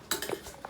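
A metal ladle or spoon stirs rice and water in a cooking pot, giving a few quick clinks and scrapes against the vessel, close and fairly quiet.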